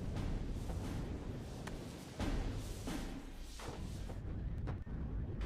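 Artillery fire from the WARNO real-time strategy game, a dense layered barrage of booming shots and rumbling impacts that continues steadily, loud and distant, with no clear gaps.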